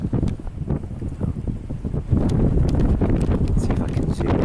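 Strong wind gusts buffet the microphone outdoors during a large wildfire in Cyprus, a loud, continuous rumble with some gusts and handling bumps.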